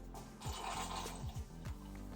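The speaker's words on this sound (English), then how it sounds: "Now we are ready to open the tap, which will leak out some rather gnarly" Yeasty liquid drains from the tap of a beer fermenter during bottling after dry hopping, a short low gurgling trickle with a steady background hum.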